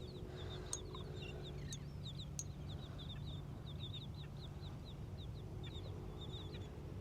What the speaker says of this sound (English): These birds right here in front of me.